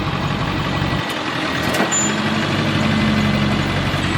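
A truck idles loudly and close, its engine rumbling steadily, as the air brakes are applied with a brief burst of hissing air partway through.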